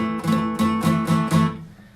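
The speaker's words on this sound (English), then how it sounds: "if my fingers are flat and hit the other strings, it's gonna sound like this." A beginner's guitar chord is strummed five times in a steady rhythm with flat fingers resting on neighbouring strings. Each strum sounds muted and choked, and the final strum fades out.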